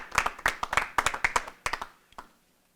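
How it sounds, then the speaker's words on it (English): Applause for a student contest winner at a National Vote Early Day event, a handful of people clapping close by in sharp, uneven bursts that thin out and stop after about two seconds. "Give him a round of applause"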